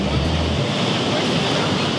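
Waves washing onto a sandy, gently sloping hotel beach, a continuous steady roar of surf with a low rumble at the start, no pauses.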